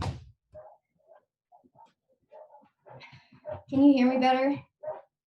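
Small dogs, a puppy and neighbors' dogs, give a short burst of yips and barks indoors near the end, after someone speaks quietly in brief bits.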